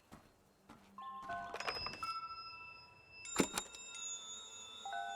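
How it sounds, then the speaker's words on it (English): Bells ringing in the video game SEASON: A letter to the future, several clear metallic strikes whose tones ring on and overlap, with a louder cluster midway against a quiet ambient background. "So here I can hear like these bells,"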